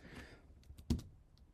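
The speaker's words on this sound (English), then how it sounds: "So now when I'm typing the number 4" Typing on a computer keyboard while entering Python input at a command line: a few soft, close key clicks in a quiet room, with one sharper, louder keystroke in the middle.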